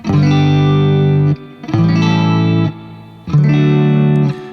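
Three sustained electric guitar chords from a progression with secondary dominants ring out in turn with a distorted, effected tone, each held for over a second with brief gaps between.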